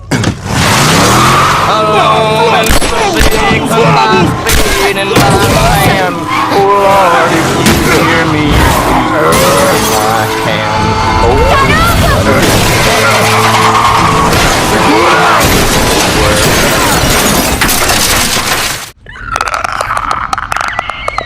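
A car speeding under gunfire with a truck nearly crashing into it in The Last of Us video game, loud chaotic engine roar, tire skids, impacts and shouting voices layered with a musical score, ending with an abrupt cut to quieter tones.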